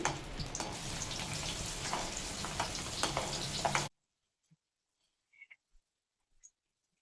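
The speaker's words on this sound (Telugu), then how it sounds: "ఈ వెల్లుల్లిని కొంచెము దీంట్లో ఫ్రై చేయాలి" Peeled garlic cloves frying in hot oil for spicy chicken pickle, a loud dense sizzle for about four seconds that cuts off abruptly, followed by near silence with a few faint clicks.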